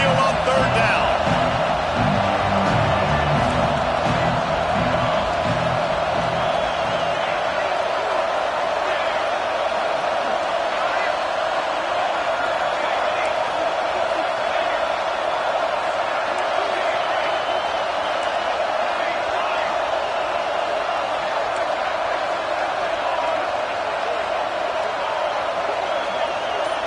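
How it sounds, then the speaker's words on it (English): A home stadium crowd at a football game roars steadily on third down, a broad sustained wall of cheering and whooping that stays loud throughout, with a few thumps early on. "Here comes this home crowd as the defense tries to get off the field on third down."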